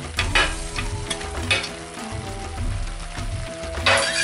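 Chopped onion and pepper fry in a hot pan with browned meat for a Turkish guvec, giving a steady close sizzle broken by scraping and stirring knocks.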